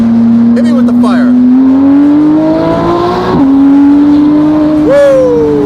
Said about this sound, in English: I really like the sound of this exhaust. Those downshifts are crisp.